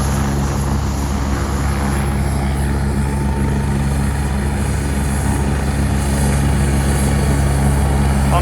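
Two helicopter rotors turn at once, a steady loud thudding drone with engine whine, close by and outdoors, one just fired up and both settling to a similar speed, with no talk.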